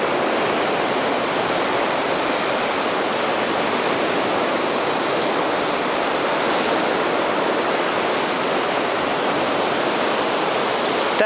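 Sea waves wash onto the shore at Anapa in a loud, unbroken roar of surf with no pauses or voices.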